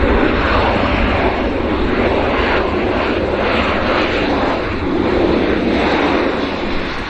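A wide-body business jet fitted with MD-80 style bucket thrust reversers at Vancouver airport makes a loud, steady engine roar with a broad rushing wash that swells slightly midway, close and alone.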